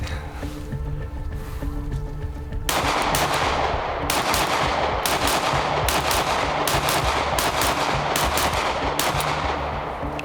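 A PSA Micro Dagger pistol, a Glock 43x clone, fires in a rapid, loud string of sharp shots, preceded by a few seconds of steady wind and background hum.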